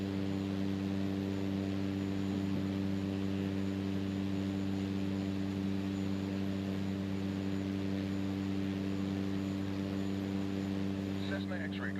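A Cessna's engine in flight in Microsoft Flight Simulator 2024 drones as a steady, even hum with strong layered tones, constant and unbroken from start to finish.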